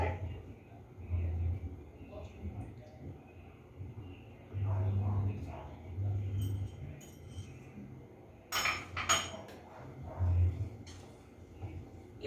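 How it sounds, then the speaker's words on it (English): Cookie dough with egg and butter is mixed in a bowl, giving scattered clinks and scrapes of a utensil against the bowl in uneven bursts, some louder clusters, over a low background hum. "You have to mix all the ingredients while getting the perfect consistency."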